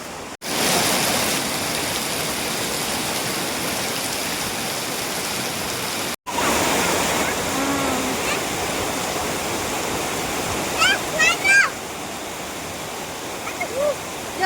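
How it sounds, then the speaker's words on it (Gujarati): Dense, steady hiss of heavy rainfall fills the scene, loud and unbroken, with a few faint voices and small sounds near the end. "વરસાદ વધારે છે"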